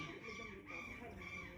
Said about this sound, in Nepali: कराउँछ भाले के साह्रो कराएको।